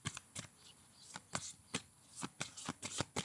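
Tarot cards are shuffled by hand close up, giving a quiet series of irregular flicking, riffling slaps with short pauses between them.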